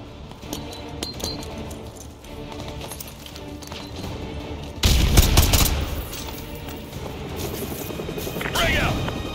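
Combat in the Call of Duty video game: bursts of gunfire under a low rumble of battle, then a heavy frag grenade blast about halfway through, followed by more shooting and commotion.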